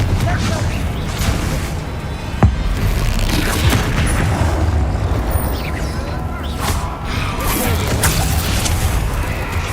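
Spell explosions from Confringo and Bombarda cast during a battle in Hogwarts Legacy, with dense booming blasts and crashes layered over continuous loud combat noise, one sharp impact standing out early.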